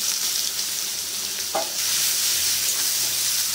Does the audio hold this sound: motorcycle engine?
no